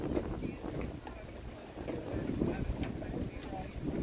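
Low, blustery wind rumbles and buffets against the microphone steadily at a Granby waterfront in fall, with faint water and harbor noise underneath.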